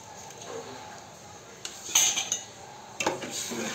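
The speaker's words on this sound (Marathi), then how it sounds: "ढवळून घेते कढी" A spoon stirs kadhi in a metal pot, giving a few sharp, close metallic clinks and scrapes against the sides over quiet kitchen background, with no talking.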